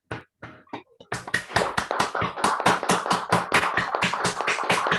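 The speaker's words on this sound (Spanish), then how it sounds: "Le brindamos un aplauso más a los expositores y a Beatriz." Audience applause for the presenters at the close of a science talk, a few scattered claps first, then dense, steady clapping from a crowd that carries on to the end.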